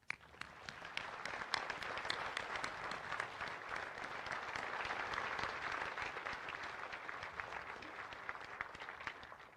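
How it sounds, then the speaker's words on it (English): Sustained crowd applause at a Pearl Harbor memorial ceremony in Hawaii marking the attack's 84th anniversary, dense steady clapping from a large audience that swells slightly and holds for the whole stretch. "Please join me in offering a heartfelt round of applause"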